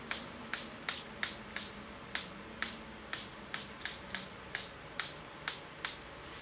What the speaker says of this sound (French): c'est un spray avec de l'eau tout bêtement